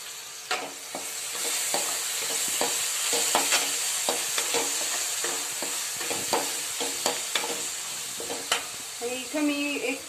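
Finely chopped tomato sautéing in a pan with asafoetida for a leafy vegetable dish, a constant close sizzle punctuated by repeated scraping and clacking stirs of a spoon.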